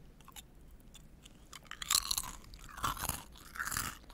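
Crisp crunching and chewing held close to the microphone, a few faint early chews giving way to louder crackly bites in three main bursts, wet mouth noise between them.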